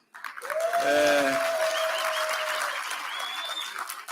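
Scattered applause from a conference audience at a basic education sector lekgotla, half-hearted and thin. It runs steadily for about four seconds, with a voice-like tone sounding over the clapping.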